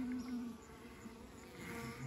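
Wild honey bees in a hive box make a close, continuous buzzing drone that holds steady with slight shifts in pitch, and no voices are heard.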